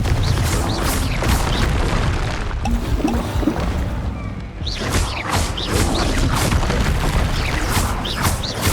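Repeated Confringo fire-spell blasts in the Hogwarts Legacy video game, loud booming crashes with crackling debris, rolling one after another over a dense game soundscape.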